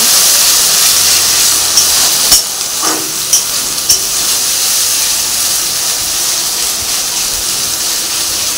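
A ginger, garlic, chilli and onion spice paste fries in hot oil with a steady, loud sizzle and hiss. A few scrapes and taps from stirring sound near the start.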